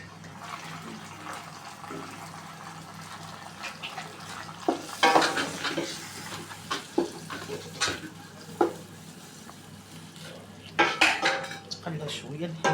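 Chopped onion frying in a pan as the base for Moroccan barley couscous, with clattering pots and utensils, stirring scrapes and a soft sizzle underneath, louder bursts of clinking near the middle and end.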